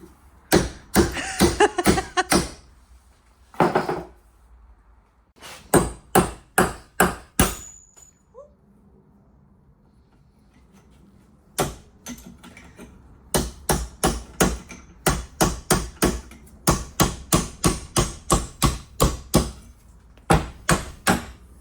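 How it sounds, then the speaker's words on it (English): Heavy hammer blows with a large hammer and chisel on a Porsche in a workshop ring out loud and close in rapid bursts, separated by short pauses, with metallic striking on each hit. "So if in doubt, it's a bloody big hammer."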